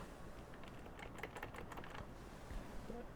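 Rapid, steady clicking of keys on an old computer keyboard attached to a DTK 10 MHz turbo board PC, heard close up over a constant hum of fans and background noise.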